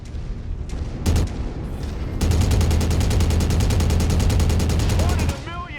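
Sustained rapid machine gun fire from a battle mech in MechWarrior, a steady, loud, evenly pulsing rattle lasting several seconds after a few earlier blasts, ending with a short electronic warble.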